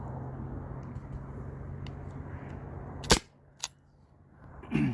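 A Byrna SD CO2 launcher fires two sharp, close pops about half a second apart over a steady low rumble of background noise, followed by a short burst of noise at the end.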